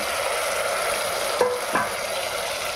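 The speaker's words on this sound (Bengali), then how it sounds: "এইবার আমরা এতে মেটে যেটা আমরা মেখে রেখেছিলাম সেইটা ঢেলে দিলাম" Steady sizzle of potatoes and onions frying in a pan as marinated liver goes in, with a couple of soft scraping stirs of a spoon over the constant crackle.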